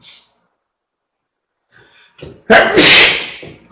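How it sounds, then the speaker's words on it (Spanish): A person sneezes once, loud and close, with a sharp breathy intake building up before the explosive burst; no one speaks during it. "me dieron ganas de estornudar"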